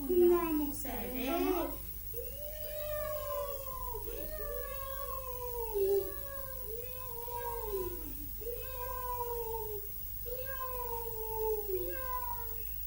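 Cats meow repeatedly in a children's play, one long rising-and-falling cry after another at a steady pace, close and clear, with a brief child-like vocal burst near the start.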